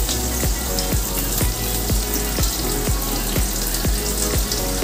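Onions frying in hot oil give a loud, steady sizzle that fills the whole clip, with a regular series of sharp clicks every half second over a low constant hum.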